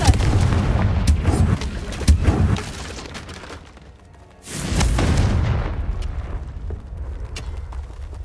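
Loud booming blasts from the Confringo fire spell in Hogwarts Legacy, cast in a fight against a huge spider, with a heavy roaring burst, a brief lull, then a second blast trailing off into rumble.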